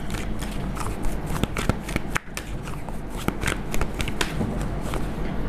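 Tarot cards being shuffled by hand close up, a continuous papery riffling with quick crisp flicks and a brief pause partway through.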